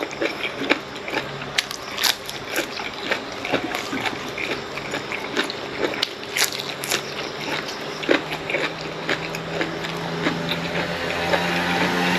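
Crunchy boiled pork intestine served with seafood dipping sauce is bitten and chewed close up, giving repeated crisp crackles and crunches at an uneven pace over a soft background hiss, with no talking.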